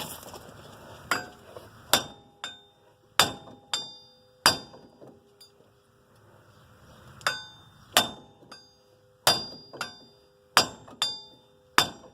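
Sharp metallic hammer blows strike a hub puller fitted with lug nuts while removing a stuck 2006 Dodge Dakota wheel hub, coming in uneven bursts of two to four ringing clanks with short quiet gaps, close and loud, no talking.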